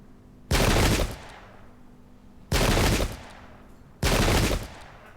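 Musket volleys crack out in a video game battle of the 1757 Battle of Plassey with British East India Company troops, three loud massed volleys spaced about two seconds apart, each a thick rolling burst that decays into quiet between.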